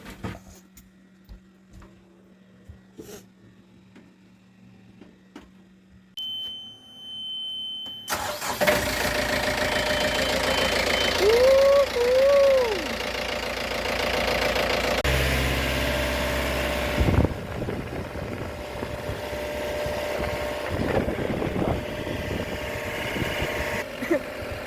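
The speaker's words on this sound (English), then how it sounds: "We're about to start the new motor." A new boat motor cranks, catches and settles into a steady running drone, preceded by quiet handling noises and followed by a rougher, louder idle.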